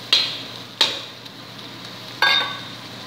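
Quinoa with ground meat, cooked carrot, peas, bell pepper and ají amarillo is turned in a pan: three sharp utensil scrapes, two close together and one after a pause, over a quiet background.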